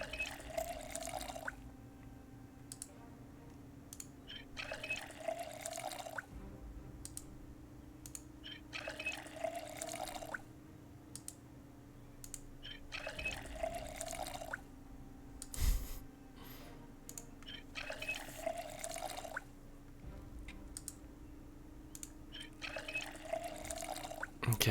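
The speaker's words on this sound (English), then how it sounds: "Let's put all of these bottles into our inventory and fill them all." Water bottles are filled one after another in Project Zomboid, with repeated bursts of running, trickling water separated by short quiet gaps, fairly faint over a low steady background hum.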